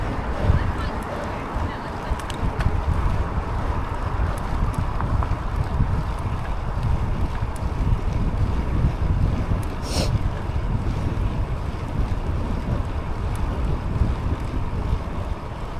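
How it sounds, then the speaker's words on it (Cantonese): Strong wind buffets the microphone during a bicycle ride to work in Dublin, a steady broadband roar running throughout with no clear pauses. "今日好大風，真係唔係講笑啊"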